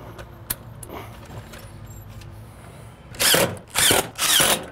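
A power drill fitted with the wrong bit, used while building a wooden shed, runs in three loud bursts near the end after a quieter stretch of small clicks and handling noise.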